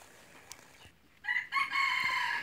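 After a quiet, faintly noisy start, a jungle fowl rooster near a decoy chicken lets out a loud, bright crow in two surging bursts that carries strongly to the end.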